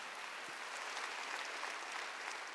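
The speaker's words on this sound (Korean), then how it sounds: "박수로 나와주세요" A church congregation at a Wednesday worship service claps steadily, a soft, distant wash of hands heard alone for a couple of seconds.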